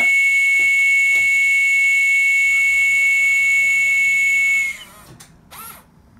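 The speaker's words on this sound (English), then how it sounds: "The whistle sounds when you're changing from forwards to reverse gear" A steady, shrill high-pitched whistle from a Hornby live steam OO gauge Mallard model locomotive sounds continuously for several seconds before stopping abruptly, followed by faint clicks and quiet background.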